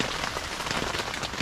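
Rain patters steadily on a surface nearby, a dense crackle of drops with no voices.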